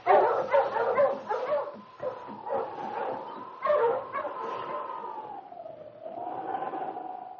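A team of husky sled dogs barks and yips excitedly in a 1952 radio drama set in the Yukon, the rapid barks giving way to whimpers and a long, wavering howl-like whine, with no talking.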